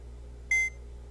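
A single electronic timer beep from a GameMaker puzzle game, a clear steady tone lasting about a fifth of a second that stands alone over a faint background hum.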